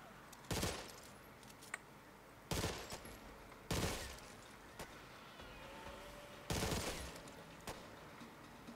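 Bursts of automatic gunfire in the Back 4 Blood video game, four loud, sharp volleys spaced a second or two apart with a few lighter single shots between, close and without talk.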